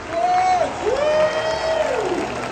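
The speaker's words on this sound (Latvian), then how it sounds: "Aplausi." A crowd at a beach volleyball final in Riga applauds and cheers loudly, with a long rising and falling whoop from one voice riding over the steady roar of clapping.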